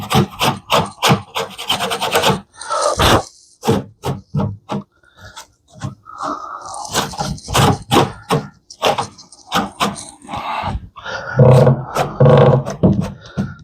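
Wooden TV cabinet being sanded down, with close, loud, rhythmic rasping strokes that repeat in quick bursts and pause briefly between passes, with no talking.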